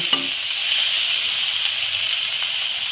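Potatoes, peas and chopped tomato frying in oil for a Bengali shol fish curry, a steady loud sizzle and hiss running throughout with no talking.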